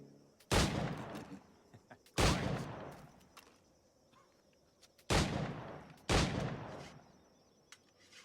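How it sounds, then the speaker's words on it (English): Four sharp pistol shots from Assassin's Creed Black Flag ring out loud and close, spaced irregularly, each with a short decaying tail over faint background game ambience. "Pull off a few shots if you like."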